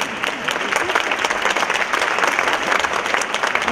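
A concert audience at a 2019 anti-poverty benefit show claps steadily in a dense, sustained wash of applause, loud and continuous throughout, with a faint murmur of voices mixed in.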